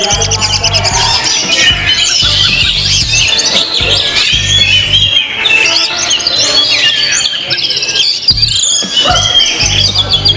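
A magpie-robin (kacer) sings loudly and close, pouring out varied whistles, squawky notes and fast chattering phrases, with a low hum underneath.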